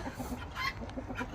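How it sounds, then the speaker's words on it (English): Guinea hen clucking up close in a busy, noisy outdoor setting, its calls repeating steadily over the full stretch with no talk. "And then this guinea hen,"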